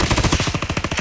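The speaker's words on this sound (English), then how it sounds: "Another gunshot." Rapid automatic gunfire in a Call of Duty battle royale match, a loud, close burst of about a dozen evenly spaced shots in quick succession, with no voices over it.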